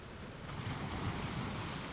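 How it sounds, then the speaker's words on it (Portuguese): Sea waves wash in with a continuous broad rush of surf and moving water, steady and fairly loud with some wind noise, and no voices. "O movimento constante das ondas, o som da água, o horizonte aberto."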